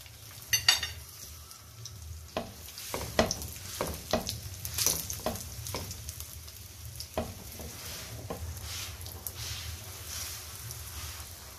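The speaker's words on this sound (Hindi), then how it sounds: "इसको अच्छी तरह फ्राई करना है।" Sweet chana dal paratha fries in desi ghee, a steady crackling sizzle with sharp scraping and stirring clatter from a utensil at intervals, close and fairly loud.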